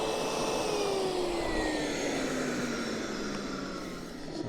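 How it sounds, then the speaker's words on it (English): A vacuum cleaner runs with its airflow choked, giving a steady, loud whining drone whose pitch slowly falls, with a harsh roar underneath, alone without talk. "you can hear where we've choked out the vacuum."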